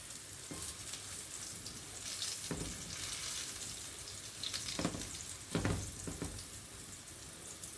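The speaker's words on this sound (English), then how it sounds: "when you're frying the beans and the peas like this" Beans and peas frying in oil in a pan on a home stove, a continuous close sizzle with bursts of crackling and occasional scraping stirs.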